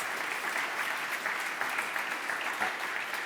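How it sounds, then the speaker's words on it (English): A lecture audience gives a speaker a steady round of applause, dense overlapping clapping sustained at an even level for the whole stretch with no pause. "Nice round of applause for Sans"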